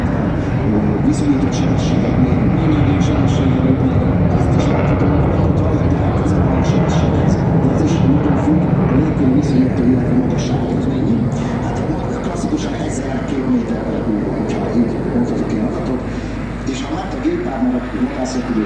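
Fighter jets fly over an airshow parade, producing a continuous loud, roaring engine rumble throughout as someone talks over it.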